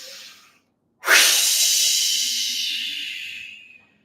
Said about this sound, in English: So whoosh with an extended exhale